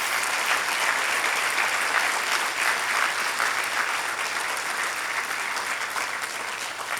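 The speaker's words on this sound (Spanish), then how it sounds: "Le das un aplauso al Señor, Dios Todopoderoso." A church congregation clapping: sustained, dense applause from a large group, steady and loud from start to finish and gently fading near the end.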